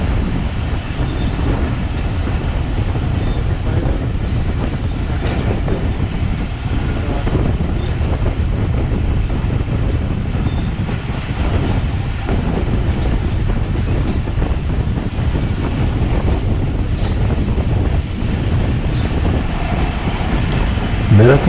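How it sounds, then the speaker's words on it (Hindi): Pakistan Express passenger train taking a curve, a loud continuous rumble and roar of wheels on rail heard from inside a carriage, steady throughout with faint rhythmic clicks and a voice talking underneath. "मैं इस वक्त ट्रेन को एक खूबसूरत कर्व लेते हुए देख रहा हूँ"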